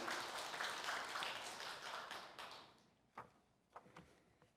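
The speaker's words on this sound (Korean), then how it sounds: "그 모든 분들을 위해서 우리 박수 한번 쳐주시죠" Applause from an audience at a church council meeting, a dense wash of clapping that fades over a few seconds, leaving a few scattered final claps.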